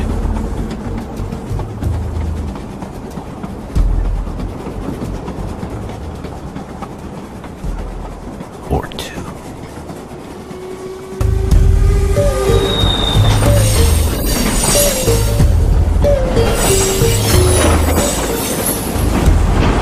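A train rolls along its rails with a steady low rumble and clatter. Partway through, it grows louder and heavier, with high metallic wheel squeals above it. A voice speaks a couple of words briefly.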